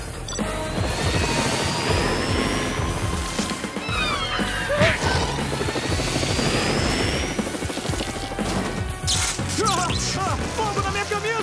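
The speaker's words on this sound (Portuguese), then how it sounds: "Eu tenho que assumir o controle desse helicóptero." A helicopter in a Brazilian animated cartoon whirs with a loud, continuous rotor roar that lasts throughout, mixed with whistling sweeps and crashing effects.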